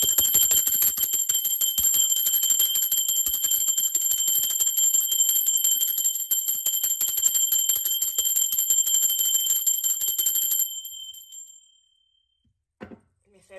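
A small bell rings steadily for about ten seconds with a bright, shimmering tone, then stops, followed by near silence and a couple of faint knocks.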